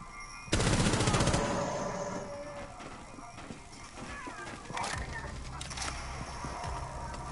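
Gunfire in a PlayStation 4 shooter game, a burst of rapid shots near the start followed by scattered game effects, with someone talking excitedly over the action.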